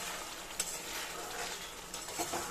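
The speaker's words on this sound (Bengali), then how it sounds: "এবার আমি মটরটা মিশিয়ে দেবো" Peas are stirred into vegetarian ghugni in a frying pan, a faint low sizzle with a few soft scrapes and taps of the spoon against the pan.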